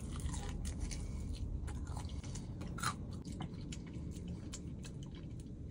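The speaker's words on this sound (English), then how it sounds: "Today I'm trying Wingstop's Atomic Wings." Close, steady chewing and crunching of spicy Wingstop Atomic chicken wings, with wet bites and squishes throughout and no talking.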